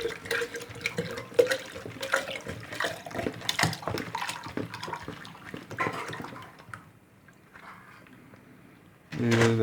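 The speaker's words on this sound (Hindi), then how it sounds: "अब इसमें हम पानी मिक्स करेंगे।" Cold water poured into a sweet sharbat mixture, splashing and trickling in bursts with clinks of a utensil, a pause, then a fuller pour at the end; a voice speaks over part of it.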